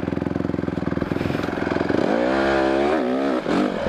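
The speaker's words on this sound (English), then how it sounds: "Whoa, a little wheelie out of the turn." Motorcycle engine revs hard and climbs in pitch as the bike accelerates out of a turn and lifts into a small wheelie, loud and close throughout.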